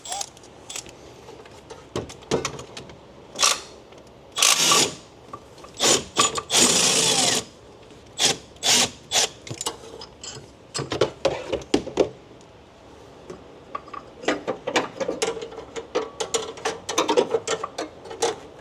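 A ratchet with a 17 mm socket loosens engine mount bolts on a Honda 3.5 engine, giving bursts of rapid clicking pawl strokes that start and stop irregularly, close up and fairly loud, with brief mechanical knocks between runs.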